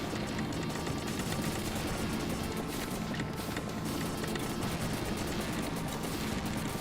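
Dense gunfire from the arcade game Super Contra fills the whole stretch, a constant loud rattle of overlapping shots and explosions with no break and no talking.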